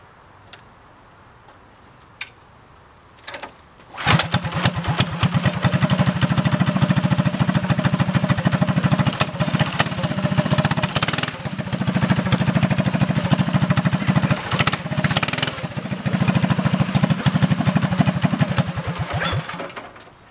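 A small engine fitted with an upgraded air filter, exhaust, fuel jet and header starts up after a few quiet seconds, then runs loud and continuous with a rapid, ticking, rattly drone to the end.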